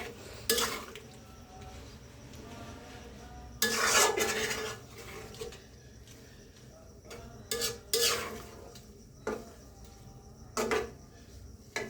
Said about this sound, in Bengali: এবার ভালো করে নেড়ে চেড়ে তেলটা জলপাইয়ের সাথে মিশিয়ে নিব।